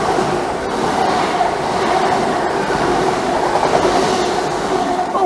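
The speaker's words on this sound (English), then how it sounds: "Happy train!" A train runs through Dawlish station on the seaside line, a loud, close, continuous rumble and wheel clatter that holds steady for the whole stretch without fading.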